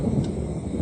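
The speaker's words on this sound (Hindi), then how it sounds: "तभी जोर की बिजली कड़की" A loud thunder clap from a sudden storm in the hills breaks out as a brief, heavy, full-bodied rumble with no voices.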